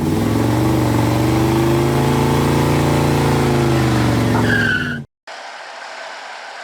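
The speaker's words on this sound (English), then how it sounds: "I got the Mustang out and running, got the alternator charging" A 1984 Ford Mustang GT350 revs loud and close, its engine note rising steadily with tire-squeal-like tones near the end before cutting out, then a quieter stretch of road noise follows.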